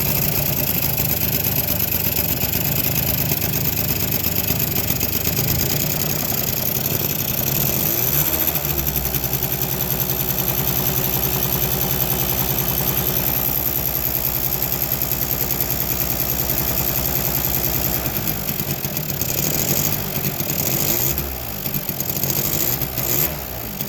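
A Polaris Scrambler ATV engine, fitted with a replacement reed valve, runs at a steady close idle with a loud continuous rumble that shifts slightly near the end.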